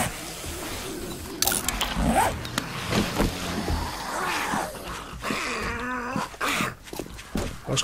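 A dog growling and snarling in the game 7 Days to Die amid clanking mechanical effects, close and busy.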